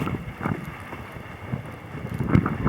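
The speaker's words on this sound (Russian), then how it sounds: "Вот, сегодня северный ветер образовался." A strong northerly wind on a snowy winter day buffets the microphone, giving low rumbling gusts in uneven bursts over a steady rushing hiss.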